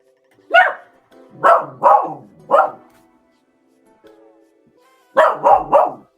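A dog barks in short loud bursts, one single bark, then a quick run of three, a pause with faint low sounds, and a final cluster of three barks close by.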